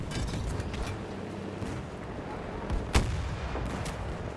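A tank fires in Battlefield 2042, one loud booming blast near the end of a dense stretch of rumbling battle noise and distant gunfire.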